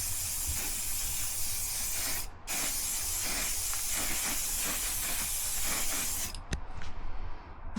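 Aerosol oil sprayed in a steady, continuous hiss onto motorcycle air filters from a ZX-12R, with a brief pause midway and a short break near the end, close and fairly loud with no talking.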